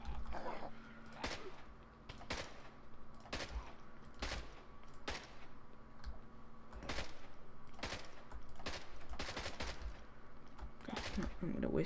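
An AK-74U firing in the zombie game Contagion, repeated sharp gunshots spaced out in short bursts over a low steady hum, fairly close and crisp, with a person's voice occasionally heard.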